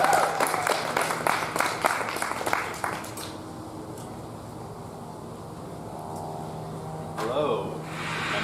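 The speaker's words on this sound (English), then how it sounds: "Give him a big round of applause." An audience at a spring publication party applauds a writer being welcomed to the stage, a burst of claps for about three seconds that quickly dies away into a quiet room before a voice starts speaking.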